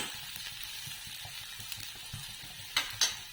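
Onion and tomato sautéing in a pan for masoor usal: a soft continuous sizzle with gentle stirring scrapes, ending in two sharp clinks of a utensil on the pan.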